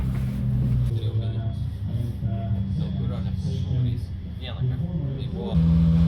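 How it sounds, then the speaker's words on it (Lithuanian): A race car idling in the pits before a BaTCC 2024 touring car race, its steady low engine rumble running throughout with a brief rise near the end, while people talk over it. "Čia va normali mašina kūrenasi"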